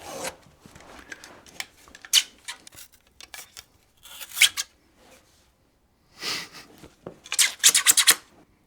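Scissors snip and crunch through thick dreadlocks in close, loud bursts of rasping cuts separated by pauses, with no voices.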